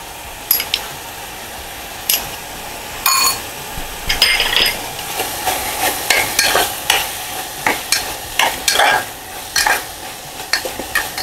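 Ginger, garlic and green chili paste sizzling with softened tomato in a pan for Mumbai rassa, stirred with a spoon that clinks against the metal in irregular scraping strokes over a steady close fry.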